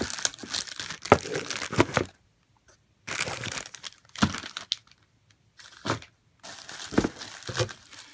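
Packaging around parts of a DT700 helicopter kit is unwrapped, with bursts of crinkling and crackling plastic coming close and loud, separated by short silent gaps.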